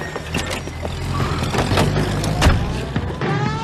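Car pulling out during a police pursuit in the video game L.A. Noire: a loud engine rumble with scattered clunks and tire noise, building to a heavier surge midway.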